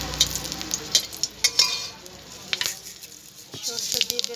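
Two green chillies dropped into hot oil in a wok, crackling and sizzling in sharp bursts with metallic stirring clicks, the frying settling into a softer hiss.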